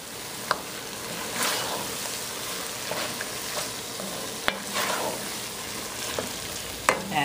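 Almond milk stirred into a crawfish fritter batter in a bowl, soft scraping strokes and gentle sloshing with a few sharper clinks against the bowl, steady and close with no talking.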